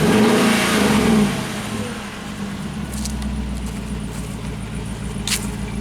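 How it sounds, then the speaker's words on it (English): A Dodge Durango RT's engine revs up loudly at the start, then falls back to a steady, rumbling idle, with a couple of faint metallic clicks later on. "Give it a rev."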